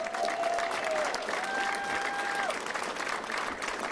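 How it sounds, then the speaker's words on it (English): Supporters at a political election-night rally applaud steadily, a dense continuous wash of clapping and crowd noise throughout, with faint voices inside it. "Let's give him a round of applause,"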